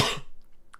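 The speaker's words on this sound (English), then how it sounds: "I still have a cough" A single sharp cough, close and loud, followed by a faint short throat sound, with no talking.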